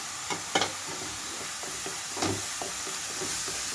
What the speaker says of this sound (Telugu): ఇక్కడ ఈ ఉల్లిపాయ అంతా వేగేటప్పుడే ఇందులోకి అల్లం వెల్లుల్లి పేస్ట్ కూడా వేసేసుకుంటున్నాను